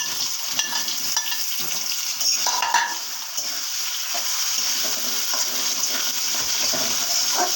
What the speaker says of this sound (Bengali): এবার দিয়ে দিচ্ছি ইলিশগুলো।